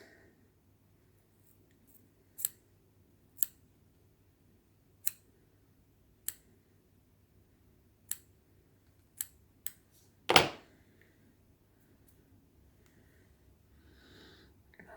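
Scissors trimming tying material before it goes onto a fishing hook: a handful of sharp, isolated snips spaced about a second apart, close and quiet, then one louder clack near the end against a near-silent background.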